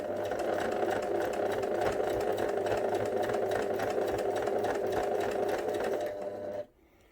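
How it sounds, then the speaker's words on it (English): A sewing machine stitches fabric for a memory bear's flat cap, a steady close mechanical whir with a fast buzzing needle rhythm that runs unbroken for several seconds before stopping abruptly. "I'm just going to pop my needle down into my fabric, and I'm just going to sew along here until I start to get to the curve"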